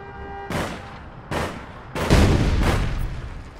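Grenade launcher fire in the online shooter game APB Reloaded: three loud, booming launches spaced roughly a second apart, each with a sharp attack and a rumbling tail, the last shot heaviest and longest.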